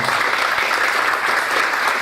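Loud, dense applause from a gathered crowd at a Kampung Ramadan launch event, a steady wash of many hands clapping without pause for the whole moment.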